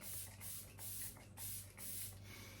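Four quick, soft bursts of hissing mist come from an Elizabeth Arden facial mist spray bottle, evenly spaced and close by, over a faint low background hum.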